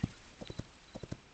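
Horse hooves clip-clop in the Hytale video game, about eight light, evenly spaced footfalls at a walking pace, close and clear.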